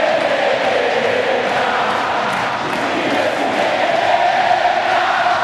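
A packed stadium crowd at Newell's roars in a sustained ovation for Messi, the dense, steady cheering and chanting filling the whole stretch without a break, with flares lighting the night.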